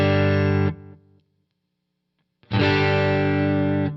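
Electric guitar played through a Jackson Audio Prism pedal set to amp mode, a loud sustained distorted chord ringing out, cut off and fading to silence, then a second chord struck hard and held to the end.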